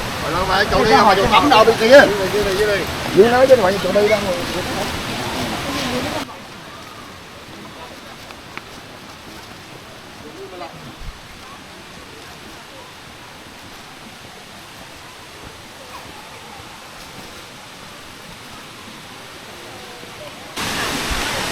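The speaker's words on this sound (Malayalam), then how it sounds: "ഒരുപാട് ഹൈറ്റിൽ നിന്ന് ഇതിങ്ങനെ അങ്ങ് ദൂരെ നിന്ന് ആ മലയുടെ മുകളിൽ നിന്ന് ഇങ്ങനെ താൻ വരുവാണ് വെള്ളം" Kuang Si waterfall in Laos, with water dropping from a great height down a mountainside, gives a steady broadband rush that follows a few seconds of loud, close voices and then carries on alone at a softer level.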